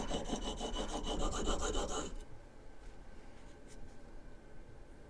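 A Harbor Freight plane blade is honed on a sharpening stone of about 1,000 grit, giving rapid, rhythmic back-and-forth rasping strokes for about two seconds that stop abruptly, leaving faint handling noise.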